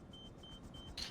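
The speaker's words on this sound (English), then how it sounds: "I thought that beeping sound was my helicopter alarm going off." Security cameras beep in GTA V Online, short thin electronic tones repeating at an even pace, faint over a low engine-like rumble, with a slightly louder burst at the end.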